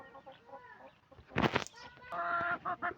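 A chicken clucks loudly up close with a sharp burst in the middle, followed by a run of harmonic squawks; quieter background chatter fills the start.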